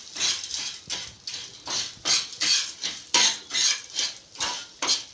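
Edible gum is being roasted in ghee, stirred with a metal spoon, giving a rhythmic run of about ten clattering scrapes against the pan, close and fairly loud, with no talk.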